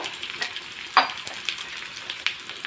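Chopped onions sizzle in a hot pan while being stirred, with a sharp scrape of the spoon and soft crackling pops over a low, steady fry, close up.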